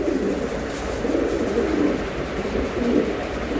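A male racing pigeon coos in a low, continuous rolling murmur, close and steady throughout, with no talking.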